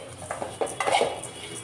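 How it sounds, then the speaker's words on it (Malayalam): A spoon stirs flattened rice (aval) in a pan over a low flame, with a few light metallic clinks and scrapes close by and a soft shuffling between them. "ലോ ഫ്ലെയിമിൽ വെച്ച് നന്നായി ഒന്ന് ഇളക്കി കൊടുക്കാം."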